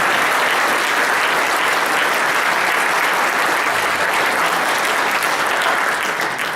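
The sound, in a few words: audience applause for debate candidates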